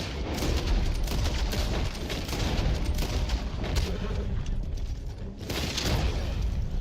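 Gunfire in the video game Red Dead Online, dense, sustained volleys of shots and rattling bursts that carry on almost without a break, loud and busy, with a brief lull near the end.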